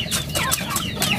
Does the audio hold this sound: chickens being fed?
yes